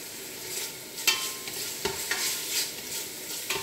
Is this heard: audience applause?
no